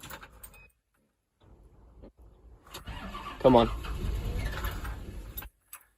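A farm machine's engine cranks and tries to start on a weak battery, stopping and restarting in bursts before a louder rough catch near the end, with someone talking under it.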